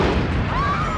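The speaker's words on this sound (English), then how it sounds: "There's not nearly enough energy in that explosion to propel a sleigh to that height, though." Sewer gas explodes with a short, dense, loud blast in a Christmas Vacation movie scene.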